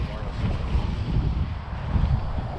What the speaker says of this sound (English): we're starting to get windy.